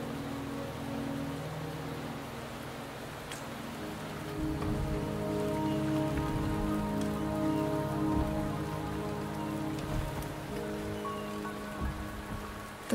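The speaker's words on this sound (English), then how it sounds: "The rain is subsiding, and the sky will soon clear." Steady rain patters on surfaces in the video game Wuthering Waves, a dense, even hiss with scattered drop ticks and soft low rumbles, alone without voices.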